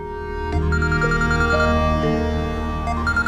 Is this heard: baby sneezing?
no